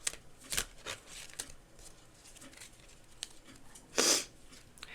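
Witching Hour Oracle deck being shuffled by hand, soft papery riffles and flicks in irregular bursts, close and quiet, with one louder snap of cards near the end.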